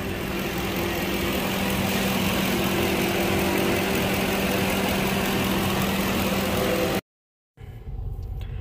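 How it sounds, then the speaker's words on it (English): A 2007 Lincoln Town Car engine idles in a shop, a steady low hum and drone that holds evenly before cutting out briefly near the end, with no talking. "The vehicle at this point is running really good."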